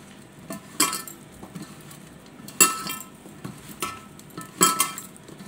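Chunks of mango pickle are stirred with oil, chili and garlic, a spoon knocking and scraping against the vessel in three distinct clinking bursts over a soft, steady background, close by with no voices.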